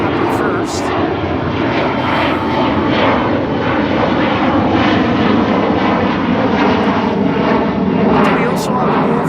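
A Boeing 777 jet at Schiphol Airport roars loud and close, a dense, continuous engine rumble that holds steady, while people talk over it.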